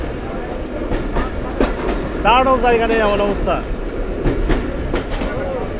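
Inside a crowded Rajshahi to Rohanpur commuter train, the carriage rumbles steadily with sharp rhythmic wheel clacks while someone talks close by over the noise.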